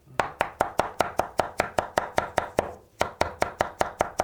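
A knife chops fresh parsley leaves on a cutting board in a quick, steady run of sharp, close thuds, about four or five per second with one brief pause, for a Sivas-style manti filling.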